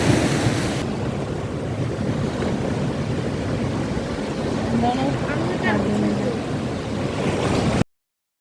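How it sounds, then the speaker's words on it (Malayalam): Strong sea waves surge and crash on a Lakshadweep shore in the evening, making a continuous close roar of surf with wind buffeting the microphone throughout. "നല്ല ശക്തിയിൽ തിരടിച്ച് വരുന്ന കടലിൽ"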